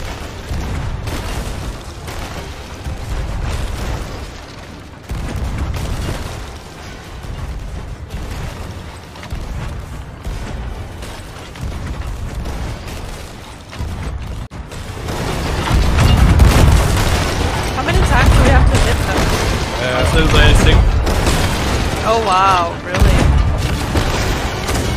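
Ship cannons fire in Sea of Thieves during a naval fight against a sloop, heavy booming blasts rolling under excited player chatter, growing louder and denser in the second half.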